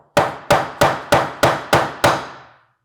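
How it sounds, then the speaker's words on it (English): Seven evenly spaced hammer taps on a wooden cajon box under construction, each a sharp close knock with a short resonant decay, steady rhythm, then silence. "just tap it with my hammer"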